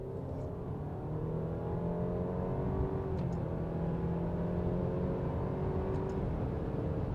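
A Alfa Romeo Stelvio Ti Sport accelerating in third gear after a downshift, heard from inside as a steady droning engine hum with slowly rising tones, continuous and moderately loud, without speech.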